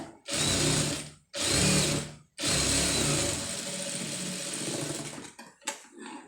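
Sewing machine stitching the lining of an embroidered sleeve, running in three loud, steady bursts separated by short pauses, then a few faint clicks and handling noises at the end.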